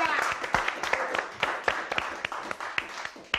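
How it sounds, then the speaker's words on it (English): A live audience applauds a guest on a comedy show: dense, steady clapping with sharp individual claps standing out throughout, close and fairly loud. "Give a round of applause for Michael Boateng, ladies and gentlemen."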